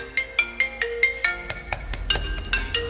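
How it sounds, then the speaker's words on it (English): Ringtone on an iPhone 7 Plus that has been soaked in Coca-Cola, playing a repeating bright marimba-like melody of quick plucked notes, with some distortion showing as it continues, loud and close with no talking. "checking out the iPhone 7 Plus here, sounds, ringtone"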